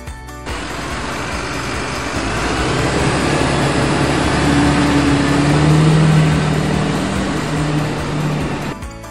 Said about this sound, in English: BUS bus.